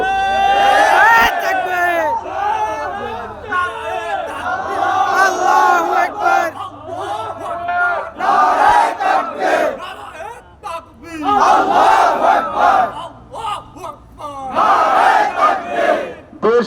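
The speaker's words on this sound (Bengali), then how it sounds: "মুখের জবান দিয়া নারায় তাকবির স্লোগান" A protest crowd at a rally over the oppression of Muslims chants the Nara-e-Takbir slogan: loud, repeated bursts of many voices shouting in unison, each rising and falling, in a rhythmic call pattern.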